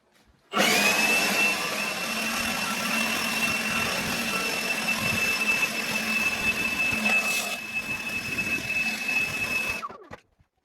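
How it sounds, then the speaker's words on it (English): An old leaf blower runs continuously inside a dusty storage barn, a loud, steady whine with a droning motor tone. It holds for about nine seconds and then cuts off. "So I had a plan on using the old leaf blower to see if I can blow some dust out of there."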